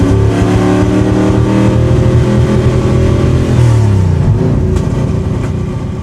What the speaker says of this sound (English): As you can see, the car was skipping, pooting, popping, everything.